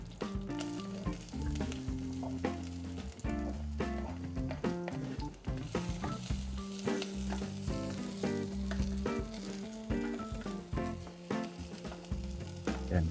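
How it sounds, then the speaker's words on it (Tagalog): Garlic sautéing in hot oil in a pan for sinigang, a steady loud sizzle and crackle with occasional stirring scrapes running through, no talking. "Lagyan na natin yung bawang."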